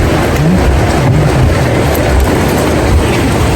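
Heavy rain pours down in a loud, dense, steady roar that fills the whole stretch without a break.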